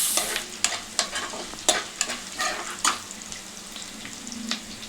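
Curry leaves sizzle and spit in hot oil in a pan while being stirred for poha, a steady close frying hiss broken by sharp crackling pops and scraping stir strokes, with no talking.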